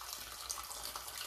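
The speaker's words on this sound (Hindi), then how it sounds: "थोड़ा सा डाल लेते हैं पानी इसके अंदर।" Water pours from a tap into a bowl holding fish pieces, a steady, quiet splashing trickle that runs on without a break.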